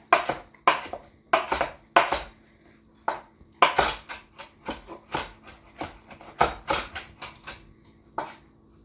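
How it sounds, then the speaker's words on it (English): A knife chops fresh parsley leaves on a cutting board in a home kitchen, a brisk run of sharp, close knocks in uneven bursts that go on steadily without a voice. "So I'm just taking this, removing the stems, keeping the tender part at the top. Just gonna give this a quick chop."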